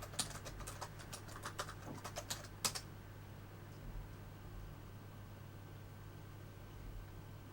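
A passphrase is typed on a computer keyboard, a brisk run of light key clicks for about three seconds under a faint constant hum, then only quiet room tone.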